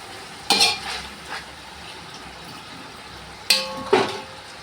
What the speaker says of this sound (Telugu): ఇప్పుడు ఒకసారి ఇదంతా కలుపుకొని